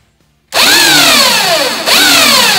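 A power grinder in a workshop, used for grinding a connecting rod's head and foot during engine rod balancing, starts abruptly and spins up to a loud, steady high-pitched whine, with a brief dip and recovery near the end.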